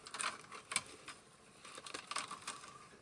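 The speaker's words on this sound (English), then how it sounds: "Then you just need to carefully cut that cable tie there." Sharp snips from side cutters cutting a cable tie inside a Sony EV-DT1 Video 8 combi tape deck during restoration, a few brief crisp clicks and small mechanical clacks, close and fairly quiet.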